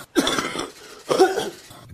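Two sharp, close coughs about a second apart, each a harsh burst trailing off into throat noise, with no talk in between.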